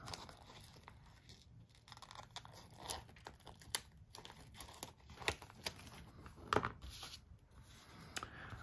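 Paper being cut into a shell shape with scissors for an artist trading card wallet: irregular crisp snips and crinkling paper rustles, close and fairly quiet, with no voices.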